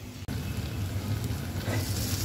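Okra cooking under a lid in an iron kadhai, a steady loud sizzle and crackle of steaming vegetables that runs throughout after a brief dropout near the start.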